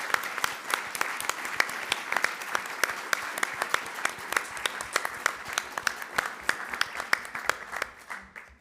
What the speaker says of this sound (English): A big round of applause, please, for all of them.